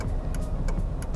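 A 2014 Toyota Etios Valco G city car drives at low speed through a tight turning-radius manoeuvre, its engine a steady mid-pitched hum with road and cabin noise throughout, no voices.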